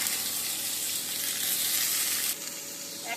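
Bottle gourd peels fry with sesame seeds and peanuts in hot oil, a loud continuous sizzle under stirring, with the sizzle dropping slightly quieter partway through. No one speaks.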